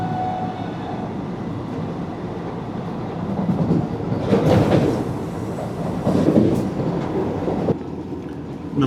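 The Patna–Ernakulam express train rumbles past on the rails, a loud sustained roar with clattering wheels that swells and fades, heard from a nearby train.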